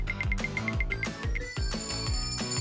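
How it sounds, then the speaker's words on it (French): A small hand bell tinkles in a quick run of about ten light, evenly spaced rings over background music, then falls silent as the music continues. "Elle tendit la main vers la cloche."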